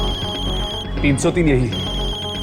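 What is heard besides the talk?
mobile phone ringing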